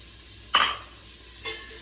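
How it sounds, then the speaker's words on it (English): A medium-sized onion drops into melted butter in a pot for tomato soup, producing a sudden loud hiss that fades, then a softer second sizzle. "And now we're gonna add our medium-sized onion."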